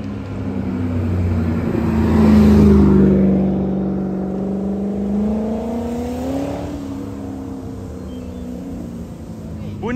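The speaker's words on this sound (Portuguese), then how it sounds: "ele falou que era uma Ferrari isso aqui" Ferrari sports car engine droning past at a bridge, a steady rising and falling roar that swells around the middle and then slowly fades, with voices talking over it.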